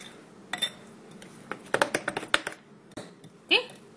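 Dahi vada batter with chilli and ginger being mixed in a bowl, a series of quick, soft clicking and clinking strokes in irregular bursts, close by, with a voice speaking over parts of it.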